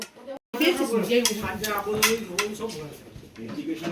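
Metal spoons clatter against plates and dishes while fried rice and chilli chicken are served at a meal in Darjeeling, a steady jumble of light clinks under nearby conversation.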